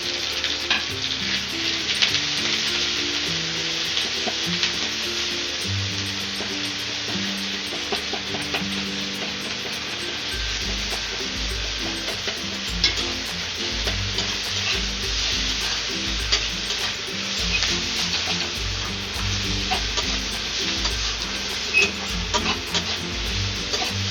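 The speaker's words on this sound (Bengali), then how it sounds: "এইখানটায় আমি তেলে ভেজে নিব" Cumin, ginger and coriander paste frying in hot oil, a steady crackling sizzle that carries on throughout, with occasional scraping as the paste is stirred in the pan, close and without talk.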